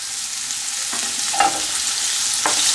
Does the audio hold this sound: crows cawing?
no